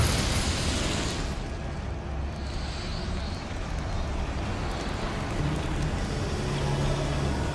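Incendio fire spell cast in the video game Hogwarts Legacy, a loud, sustained roaring burst of flame with a rushing, noisy texture that fills the whole clip at an even level.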